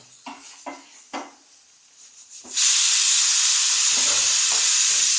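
Coriander seeds hit a hot pan and burst into a loud, sustained sizzle after a few quiet clinks and taps, the hiss staying steady and close for several seconds.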